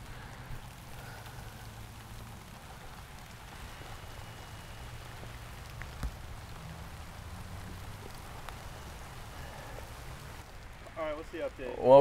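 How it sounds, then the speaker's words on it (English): Light rain patters softly and steadily over a municipal golf course, a faint, even hiss with low background rumble; a few brief sharp sounds appear near the end. "I think it's supposed to rain till about noon"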